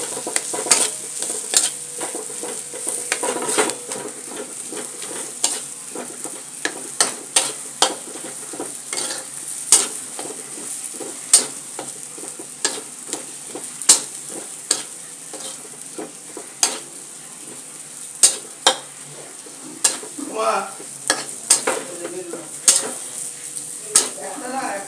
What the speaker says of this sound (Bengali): কিছুক্ষণ ভালো করে ভেজে নিচ্ছি।